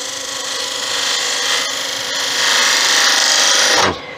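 A wood lathe making a light finishing cut on a wooden Venus figurine, with a steady, loud scraping whir of the tool on spinning wood that builds slightly before stopping abruptly near the end, no talking.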